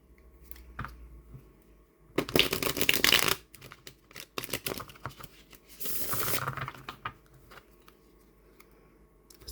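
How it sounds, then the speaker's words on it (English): A slightly stiff Halloween-themed tarot deck is shuffled in several crisp, riffling bursts separated by quiet pauses and softer card handling, close and clear with no talking. "Take a quick look at the shuffle."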